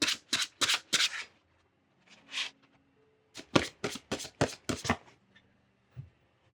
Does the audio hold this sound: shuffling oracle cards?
yes